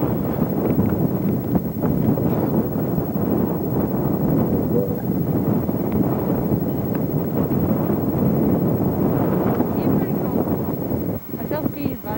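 Strong outdoor wind in a Minnesota winter roars and buffets the microphone continuously for the whole stretch, dense and unbroken, easing slightly near the end.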